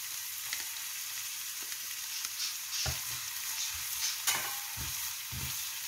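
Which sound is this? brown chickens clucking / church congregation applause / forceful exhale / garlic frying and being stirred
garlic frying and being stirred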